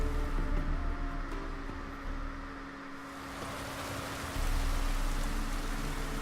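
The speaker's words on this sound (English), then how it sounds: "And it's raining here too." Continuous rain pattering down in The Witcher 3: Wild Hunt, a steady wash of noise that dips briefly in the middle and then returns heavier.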